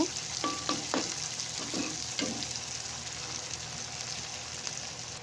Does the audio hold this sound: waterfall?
no